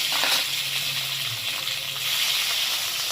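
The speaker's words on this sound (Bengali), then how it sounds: "মিষ্টি এটাকে জল দিয়ে দেবো" Water poured into a hot pan of olive chutney, a steady hissing gush and light sizzle lasting a few seconds, close and fairly quiet.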